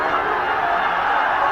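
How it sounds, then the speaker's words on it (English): A home cricket crowd at a Nepal versus Kuwait semi-final roars after a boundary, a dense, continuous wash of noise with a voice talking over it. "you can hear the crowd roar"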